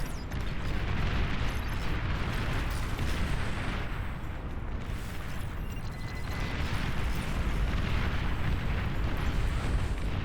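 Commander unit blowing up in the strategy game Beyond All Reason, a dense rumbling blast with crackling debris and booming, sustained roar lasting around ten seconds amid ongoing battle noise.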